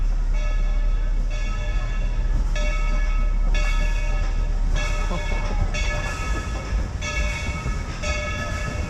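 Dollywood theme park train cars in Tennessee roll past with a rhythmic clickety-clack every second or so, over a deep rumble and a sustained metallic ringing tone.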